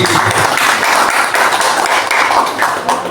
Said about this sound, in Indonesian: Tepuk tangan semeriah mungkin.